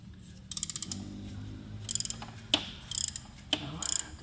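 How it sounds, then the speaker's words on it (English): Short bursts of ratchet clicks come from a deep E12 socket loosening bolts on an aluminum mount of a Mercedes S550 W221 M273 engine, quiet and close, with brief metallic clunks between sets over a low background hum. "To release these two bolts, I will use this deep E12 socket."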